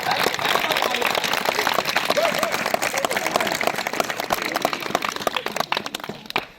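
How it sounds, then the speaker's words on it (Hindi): Students at a rural school in Uttarakhand applaud, a dense steady burst of many hands clapping that holds strong for several seconds, then thins out and fades near the end. "एक बार और जोर से इनके ताली"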